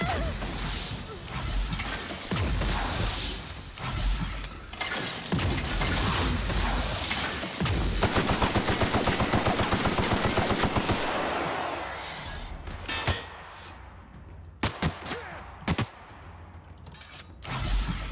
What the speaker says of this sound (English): I do not know who's shooting at me, but I'm very offended by this.